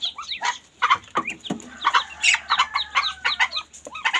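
Farm ducks being moved, with busy, close quacking and clucking calls in quick bursts, some overlapping, continuing throughout.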